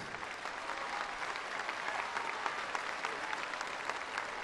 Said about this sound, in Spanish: Enmarquemos la entrega de estas tarjetas de los programas integrales para el bienestar con un fuerte y caluroso aplauso